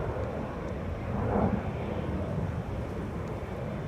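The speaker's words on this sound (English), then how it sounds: "we have wide bodies just standing here idling" Wide-body airliners idle at Amsterdam Schiphol Airport, their jet engines droning in a steady, broad roar, with faint wind buffeting the microphone throughout. No one speaks.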